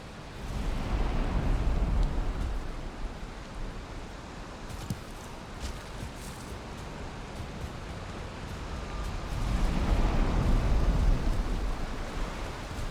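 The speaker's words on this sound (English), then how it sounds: "I might be able to pick a few more up while it's raining and while it's dark" Steady rain in Valheim falls as a dense, continuous wash of noise at night, swelling louder near the start and again toward the end, with no talk over it.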